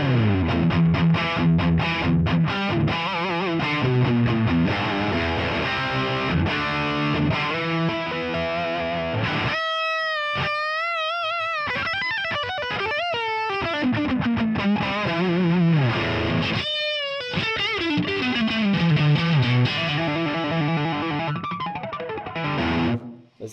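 High-gain electric guitar through a modded Marshall JCM800 amp, heavily distorted and compressed, playing dense riffs and sustained chords loudly for the whole stretch, with a brief open, ringing passage in the middle and no talking.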